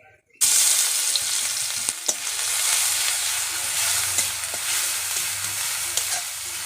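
Garlic paste with a dried red chilli frying in hot oil, a loud, close, continuous sizzle that bursts in suddenly after a quiet start, with occasional sharp crackles and stirring clicks.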